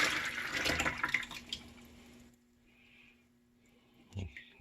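Wine grape juice, about 36 ounces, poured from a container into a bucket, a loud steady splashing gush for about two seconds that stops, followed by a faint trickle and a knock near the end.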